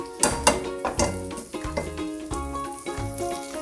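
A ham and cheese French toast sandwich fries in margarine in a pan, a steady close sizzle broken by repeated scraping and tapping of a utensil against the pan, with no talking.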